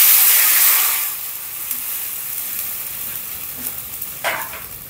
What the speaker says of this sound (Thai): จากนั้นน้ำกะทิที่เราเตรียมไว้ลงไปคั่ว